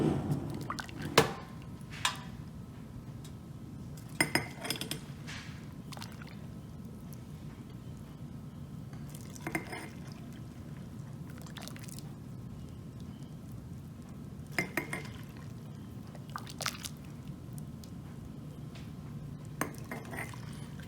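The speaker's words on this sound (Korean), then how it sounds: "이제 끓인 소스를 넣어 볼게요." Boiled pickling sauce for jangajji pours into containers in a kitchen, with scattered drips, splashes and clinks of dishes over a steady low background rumble, no one talking.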